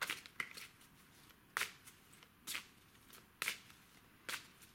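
A deck of Lenormand fortune-telling cards is shuffled and cards are drawn, producing about five soft, crisp riffling snaps spaced at a steady rhythm, close and fairly quiet.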